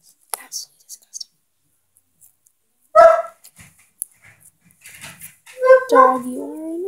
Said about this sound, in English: Sorry for the background, that is my disgustingly annoying dog